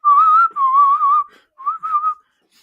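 A person whistles a short melody close by, two sustained phrases and then a briefer third one after a pause, clear and alone with no other sound.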